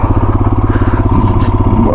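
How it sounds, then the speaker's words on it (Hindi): A motorcycle engine chugs in a fast, steady pulsing rhythm, close and loud, as the bike slips and struggles on a slick mountain road near Tungnath, with a slight change in pitch midway. "बाइक स्लिप हो रही है।"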